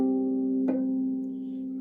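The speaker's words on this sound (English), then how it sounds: "We have a bell-like sound called harmonics." Bell-like harp harmonics ring out as sustained tones, one plucked note sounding near and clear, then a second faint pluck starting as the first fades, with no voices.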